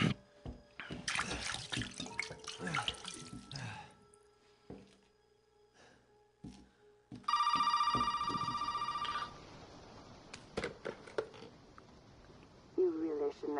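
A telephone rings in Resident Evil 7, its steady electronic ring sounding for about two seconds mid-clip amid game noises, splashing water and footsteps.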